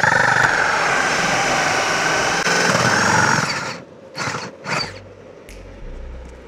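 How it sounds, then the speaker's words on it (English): A power drill runs continuously with a loud high whine as a pilot bit bores through an outside wall's paneling for a mini split install, then stops abruptly, followed by a few brief scraping and knocking noises. "I'll line that up with my pilot drill bit, get that little bit of an angle upward in this case,"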